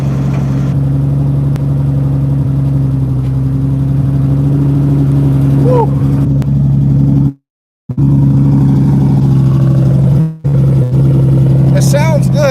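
A car with an LS engine and a lumpy, rough-cam idle, a steady loud low drone with a slightly uneven pulse, heard up close over several seconds, briefly cut out twice, with voices talking over it.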